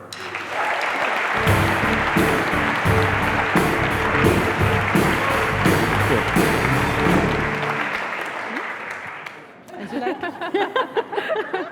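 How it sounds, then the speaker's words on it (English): A large audience bursts into loud, sustained applause with scattered cheers, fading after several seconds as a few voices and a light chuckle follow. "Please welcome with a huge round of applause, John Stepper."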